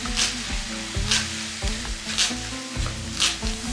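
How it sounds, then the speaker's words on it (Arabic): Chopped onion sizzles and fries in a hot pan during home Ramadan cooking, a steady crackling hiss with recurring louder bursts as the pieces are stirred, close and continuous with no voices. "غنزيدو هنايا البرو هكا مقطع طويورات"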